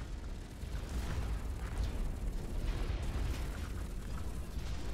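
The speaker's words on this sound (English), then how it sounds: "We got lock on rockets." Lock-on rockets fire and detonate in the Hawken mech video game, a dense, continuous roar of rumbling explosions and blasts layered together, loud and sustained throughout with no voices.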